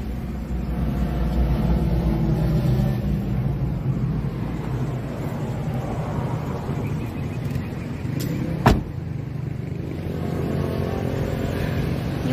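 Small 660cc Suzuki Multicab F6A three-cylinder engine, 12-valve EFI in a 4x4 manual mini truck, idling steadily nearby with a constant low rumble and one brief sharp knock partway through.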